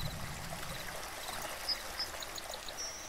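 A waterfall in the video game Second Life pours in a soft, continuous rushing wash, with a couple of faint high chirps and a small splash over it.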